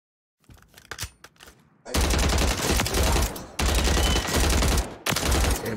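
A Striker gun in Warzone, fitted with a 60 round drum and no stock, fires in loud rapid bursts after a few quieter shots, with short gaps between long sustained volleys.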